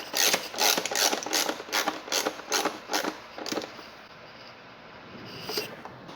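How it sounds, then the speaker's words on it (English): Screws on the plastic air filter cover of a Lexus RX350 being tightened by hand, a series of close clicking ratchet turns in quick bursts, then a quieter pause with a few final clicks. "So we'll start by tightening the cover screws."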